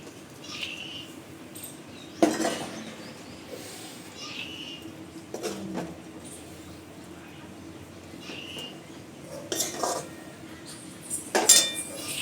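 Pieces of chickpea-flour pancake go into an onion gravy, with sporadic metallic clanks and clinks of a utensil against the pan and faint birdsong in the background.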